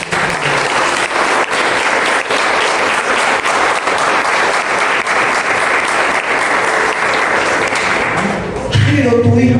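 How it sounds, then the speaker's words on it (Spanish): A church congregation claps together in a loud, sustained burst of applause that runs steadily before tapering near the end, with a brief low sound and voices emerging at the close. "Dale un aplauso a Dios."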